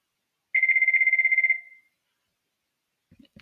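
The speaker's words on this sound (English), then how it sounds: "my phone is ringing" A phone rings once with a bright, warbling electronic trill that lasts about a second and then fades, followed by quiet and a few faint clicks.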